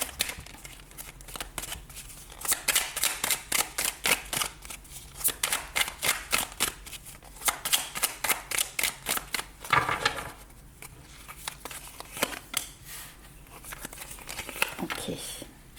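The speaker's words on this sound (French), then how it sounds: "on va se faire un petit tableau en 9 cartes." Tarot cards are shuffled and dealt into a nine-card spread, making close, soft riffling patter in quick rhythmic runs with brief pauses. A voice can be heard faintly at times.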